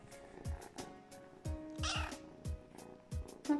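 A young kitten meows repeatedly, short close cries in an uneven rhythm with soft thumps and faint household noise between them.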